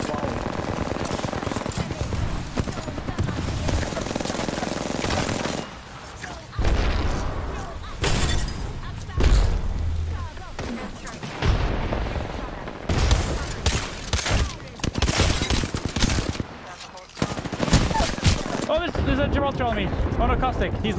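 Rapid gunfire from Mozambique shotguns and other weapons in a chaotic video game firefight, loud bursts and impacts repeating through the whole stretch while players talk over the action.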